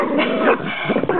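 A puppy whimpers and whines in a brief, continuous run of high, thin cries, close by.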